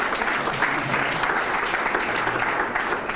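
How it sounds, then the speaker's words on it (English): Sustained audience applause for two speakers at a founder-stories talk, a thick, even roar of many hands clapping throughout, loud and continuous with no pauses. "you can give a round of applause to Stefan and to Simon as well"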